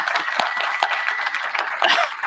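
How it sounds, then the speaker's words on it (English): Conference audience at Codegarden 2019 claps for a speaker coming on stage, a short, fairly loud burst of sustained applause from a crowd, heard alone without talk. "Let's give him a round of applause."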